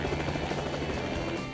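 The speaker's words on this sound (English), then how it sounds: "Dominion has been using helicopters to visually inspect and maintain its transmission systems and rights-of-way since the early 1990s" A helicopter patrolling power lines throbs with a steady, close rotor chop and a low engine drone throughout, with no talk over it.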